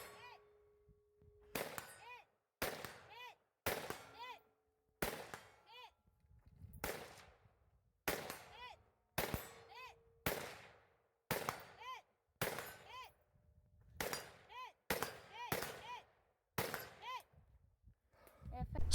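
Pistol shots fired at steel targets in a shooting match stage, about a dozen sharp reports, each followed at once by a ringing metallic clang, coming in an uneven rhythm with short pauses, fairly close.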